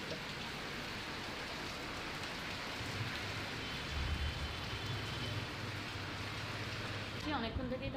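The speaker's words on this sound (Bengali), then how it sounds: "জোর নেমে গেল বৃষ্টিটা" Heavy rain pours down steadily at the seaside town of Digha, a dense, even hiss of drops that fills the scene without a break.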